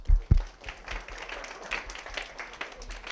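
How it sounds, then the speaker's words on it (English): A brief burst of audience applause at a technology conference leadership workshop in Osaka, scattered hand claps rising then thinning out, with faint murmuring underneath. "One applause for Shin."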